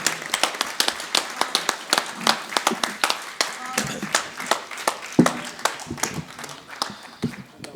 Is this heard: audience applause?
yes